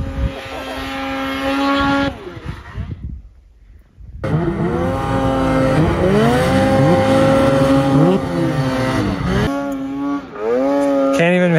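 A snowmobile with a turbo engine is held wide open until it breaks, letting out a loud, close, sustained high-revving whine. The revs swoop and waver, drop out briefly, then come back at full throttle.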